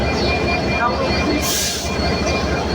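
The Jahanabad Express, hauled by EMD locomotive 6619, rumbles loudly and steadily nearby, with a brief hissing burst partway through and a voice faintly mixed in.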